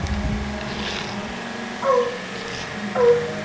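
A voice imitates a dog's whimper, two short high whining cries about a second apart over low background noise.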